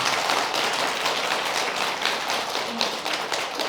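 An audience at a Buddhist monk's Dharma talk applauds steadily, dense continuous clapping filling the room from start to finish without pause, fairly loud and close.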